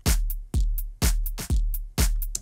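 A GarageBand snare drum at lowered velocity strikes five times at a steady half-second pulse, each hit a sharp crack with a quick decay, clean and alone.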